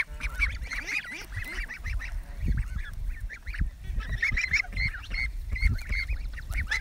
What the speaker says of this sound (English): And there's the geese. Coming right over to see me.